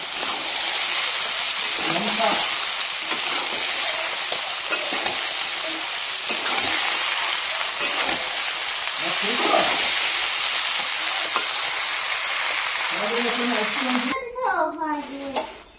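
Boiled chickpeas and peas sizzle and fry steadily in a pan while being stirred, with a spoon scraping now and then. Someone speaks briefly over the cooking noise near the end.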